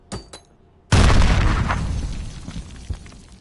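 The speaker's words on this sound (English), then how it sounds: "Scary grenade." A grenade detonates in the first-person shooter Modern Warfare, a few faint clicks then a sudden loud boom with crackling debris that rolls off into a long decaying rumble.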